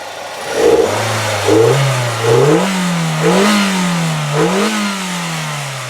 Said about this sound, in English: Let's rev her up here and see what we got.